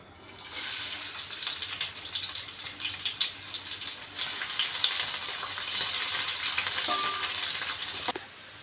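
A large sliced onion and four green chillies frying in a pan, a loud dense hiss of hot oil that swells midway and runs steadily for several seconds before cutting off.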